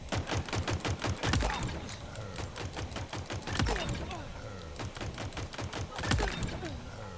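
Rapid semi-automatic MK50 Sidekick pistol shots ring out in Halo Infinite in quick bursts, with short pauses between some of them. Someone talks over the gunfire.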